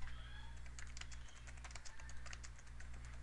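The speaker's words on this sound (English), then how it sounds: "I'm going to type my private key, which was my passphrase" Quiet typing on a computer keyboard as a passphrase is entered: soft, scattered key taps over a steady electrical hum and room noise, faint and with no talking.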